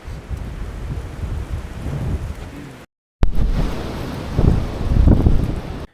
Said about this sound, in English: If you hadn't noticed, the wind is crazy today.